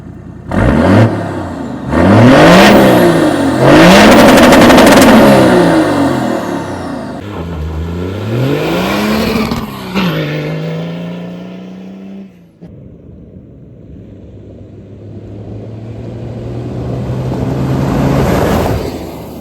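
A 300-horsepower Toyota Land Cruiser 80 Series engine revs hard in several loud bursts, pitch rising and dropping, then settles to a low idle before one more rev swells at the end.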